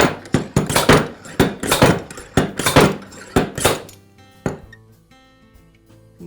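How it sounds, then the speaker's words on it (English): Metal bushings knocked and pried out of a Milwaukee band saw blade pulley, a run of sharp clanking taps and clinks close by, loud at first, then a few sparse knocks fading into ringing quiet. "So I'll go ahead and pull out these bushings now."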